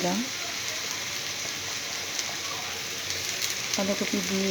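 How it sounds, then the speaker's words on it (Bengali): Beans, cabbage and capsicum fry in hot oil for chow mein, giving a steady close sizzle throughout, with a voice speaking briefly over it near the start and end. "পরপর সব সবজি আমি দিয়ে দিচ্ছি, কেন এগুলো সেদ্ধ হতে হবে তো তেলের মধ্যে"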